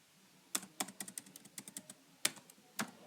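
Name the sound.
typing Java code on a computer keyboard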